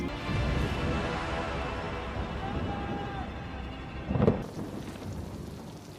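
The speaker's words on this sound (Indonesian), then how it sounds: "hingga larut malam hujan turun sangat deras" Heavy rain pours steadily throughout, with a deep rumble of thunder swelling briefly near the end.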